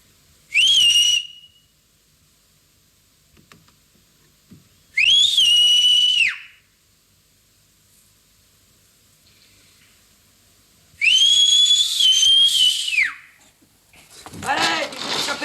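Three shrill whistle blasts ring out, short, then longer, then longest, separated by quiet gaps, with a brief rising vocal sound near the end.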